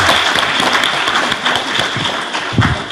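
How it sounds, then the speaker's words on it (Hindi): An audience applauds loudly and continuously for an educator receiving a certificate and award at a ceremony, the thick clapping filling the short moment with no voices over it. "ताली बजाओ, बहुत।"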